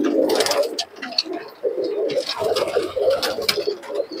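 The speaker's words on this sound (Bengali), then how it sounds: "দেখুন প্রথমে তোমাদেরকে গিরিবাজ কবুতরগুলো দেখাচ্ছি।" Giribaz pigeons cooing at a busy pigeon market in Murshidabad, several birds giving repeated throaty coos close by, overlapping in a continuous rolling chorus with light rustling and wing noise around them.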